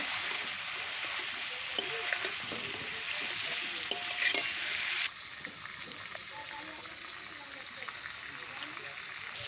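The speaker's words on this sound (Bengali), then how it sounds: "চিংড়ির সঙ্গে আলুটা একেবারে লাল লাল করে কষিয়ে নেব।" Prawns and potatoes fry in a pan, a steady broadband sizzle with occasional utensil stirring clinks; the sizzle drops noticeably quieter about halfway through, continuing softly to the end.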